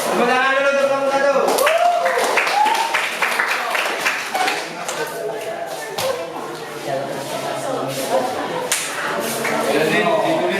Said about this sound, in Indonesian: Tepuk tangan dulu untuk kamu satu